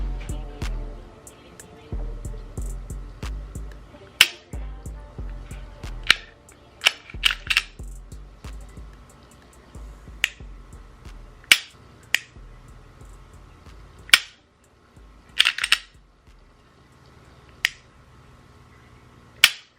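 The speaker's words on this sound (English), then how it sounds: "I really enjoy the trigger pull on this" Sharp, close clicks from the trigger of a PSA Micro Dagger pistol, a dozen or so crisp snaps spaced irregularly over quiet handling noise.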